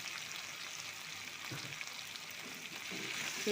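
Okra frying in a pan with turmeric and chilli powder gives a faint, steady sizzle with a few soft stirring scrapes.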